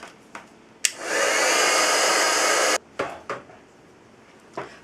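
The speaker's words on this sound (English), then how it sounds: "we're going to bring in my heat tool, and I'm going to heat that until it melted" A handheld heat tool blows hot air to melt embossing powder on a papercraft butterfly card, a loud steady whoosh lasting about two seconds, set among soft desk clicks and taps before and after.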